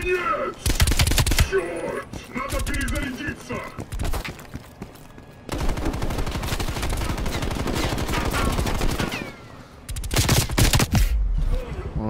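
Gunfire in the Call of Duty Cold War campaign: heavy automatic bursts in several loud, close volleys broken by short pauses, with someone talking over parts of it.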